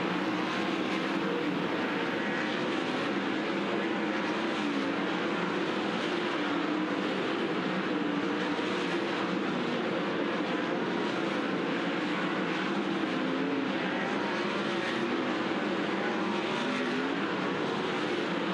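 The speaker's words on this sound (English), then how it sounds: "Cole Macedo in the 21 as we go green on Dirt Draft Hot Lap session number 4" Sprint cars at Skagit Speedway run hot laps on the dirt track, a continuous roar of engines that drones loud and steady for the full stretch, with no voices over it.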